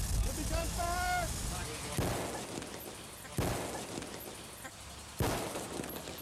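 A brief voice is followed by three sharp, loud gunshots spaced a second or two apart, each with a short echoing tail.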